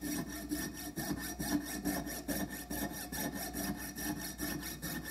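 A hand saw blade cutting through brass trumpet tubing, a fast, even back-and-forth rasp with a rhythmic stroke pattern, close and continuous throughout.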